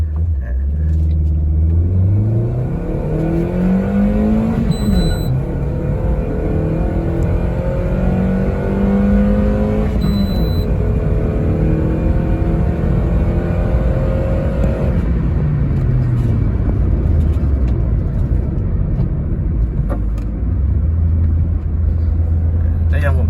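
Toyota Yaris 1.2 with a swapped 1NZ engine and manual gearbox driving on a wet road: a loud, continuous engine note climbs in pitch through repeated upshifts, dropping with each gear change, over steady road and tyre rumble.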